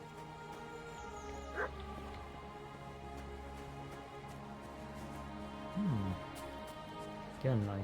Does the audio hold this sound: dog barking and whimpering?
yes